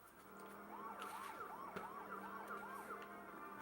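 A wailing police siren sweeps rapidly up and down in a steady yelp pattern, heard faintly from a distance with no voices.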